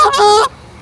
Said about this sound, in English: These are them young goslings